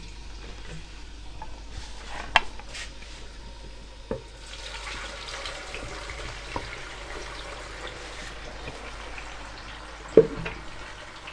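Beef sizzles faintly in about two spoons of hot oil in a pan while making beef karahi, with occasional sharp clanks of a utensil against the pan.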